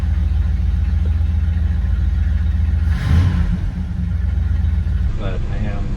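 Mopar engine fitted with a GM HEI ignition idling at 1100 rpm, a loud steady low rumble with a brief surge near the middle, a voice speaking over it.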